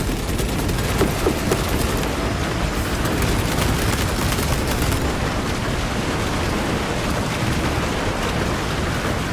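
A cannon fires in the video game Moss: The Forgotten Relic, producing a continuous, loud barrage of rapid booming blasts that sounds like a dense, roaring fusillade with no break.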